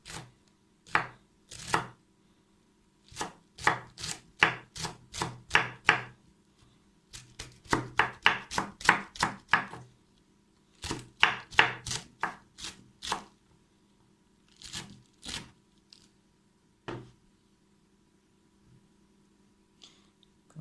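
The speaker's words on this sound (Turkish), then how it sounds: "İnce doğruyorum ama çok e, ince de değil yani robottan geçirecek kadar ince doğramıyorum." A knife finely chops ingredients on a board for a simple four-ingredient home dish. Quick, crisp chops come in rhythmic bursts separated by brief pauses, close and clear.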